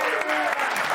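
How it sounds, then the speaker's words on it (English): A studio audience applauds loudly and steadily through the whole second, a dense wash of clapping with no gaps. "I love it when they applaud my next question."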